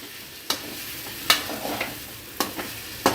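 Parotta frying on low flame for egg kothu parotta while masala is stirred in: a steady soft sizzle broken by sharp spatula scrapes and taps at an irregular pace, close up, with no voices.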